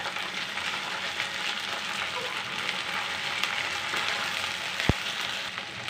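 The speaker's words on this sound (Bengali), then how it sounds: "এখন আমরা আদা রসুন দিলাম" Onion, ginger and garlic fry in a pan with a steady, close sizzle that holds for the whole stretch, with a brief sharp tap near the end.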